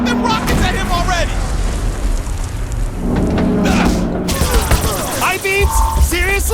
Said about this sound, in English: Shoot them rockets at him already!